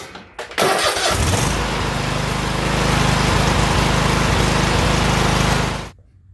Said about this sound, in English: So now what you always want to do is start the engine